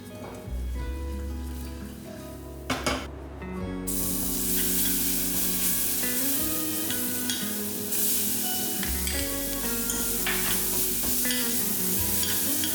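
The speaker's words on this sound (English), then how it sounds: "In some ghee, I'll add a few whole spices." Whole spices sizzle in hot ghee for dal. A sharp crackle erupts as they hit the pan and settles into a steady, loud frying hiss. Faint stirring clinks sound in between.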